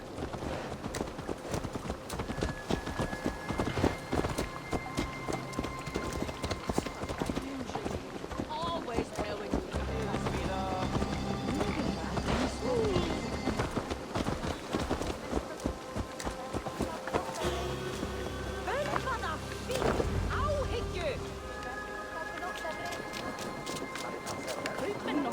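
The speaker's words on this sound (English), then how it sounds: "Let's return the horse" Horse hooves clip-clopping in Assassin's Creed Valhalla, a steady brisk beat of hoof strikes running throughout under dense layered game sound and music.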